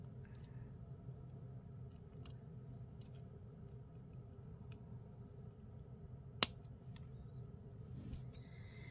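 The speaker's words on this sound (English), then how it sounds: "I think I'll snip that off right there then" Moss agate beading wire is snipped off during jewellery making. A single sharp, close snip stands out against quiet room hiss, with a few faint ticks and clicks around it.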